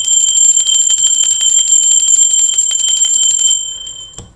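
A bell rings loudly and rapidly for about three and a half seconds in a rattling, steady trill like an alarm-clock bell, then stops and its tone fades out.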